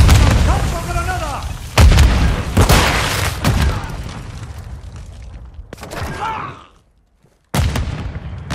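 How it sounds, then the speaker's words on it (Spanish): In the video game Call of Duty Modern Warfare II, loud booming blasts from a grenade and gunfire hit repeatedly during a prisoner rescue mission, with in-game voices, a brief silence, and another blast. "¡Lanzo granada!"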